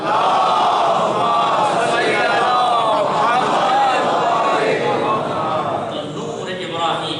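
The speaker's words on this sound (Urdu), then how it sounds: "نعرے حیدری، نعرے خیبری، آواز بلند نعرے صلوات" A large crowd shouts religious slogans and salawat in unison at a Shia majlis lecture on Imam Hussain, loud, continuous and dense with massed voices throughout.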